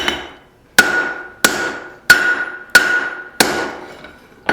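A hammer strikes hot steel while tongs are forged, with six sharp, ringing blows at a steady, even pace, each ring decaying before the next blow.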